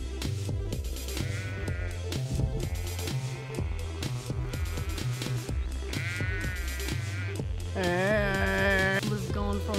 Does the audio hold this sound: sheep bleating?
yes